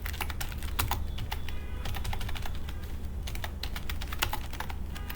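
Fingers type on a computer keyboard in quick, uneven bursts of close clicking keystrokes that continue throughout with no speech.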